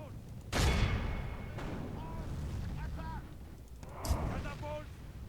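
Troops firing in the Medieval 2 Total War battle: a sharp opening volley, then a continuous rumbling din of shots and battlefield noise with scattered shouting voices, and another burst near the end.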